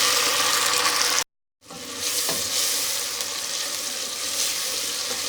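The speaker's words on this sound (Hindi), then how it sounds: "अब टमाटर हमने डाल दिए।" Chopped tomatoes hit hot oil over browned onions for chicken biryani and sizzle loudly. The frying breaks off briefly into silence, then comes back as a steady, crackling hiss with a stirring scrape.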